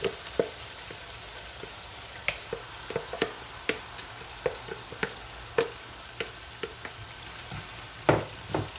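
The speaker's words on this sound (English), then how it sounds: "Now we're gonna let that fry a little." Tomatoes, red bell peppers, onion, garlic and thyme fry on high heat in a pan, a quiet bed of sizzle broken by frequent sharp pops and spatters.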